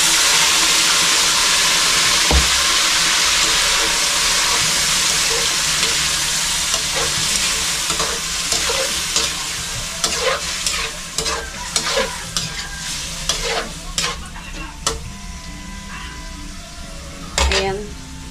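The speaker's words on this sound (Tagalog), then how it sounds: "Igigisa na natin yung atay." Chicken liver sautés in a hot pan for Filipino adobo, a continuous sizzle broken by scraping stirs and sharp clinks of a utensil against the pan that grow more frequent toward the end.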